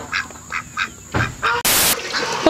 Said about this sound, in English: You can hear them. That's what I'm talking about. We do enjoy the ducks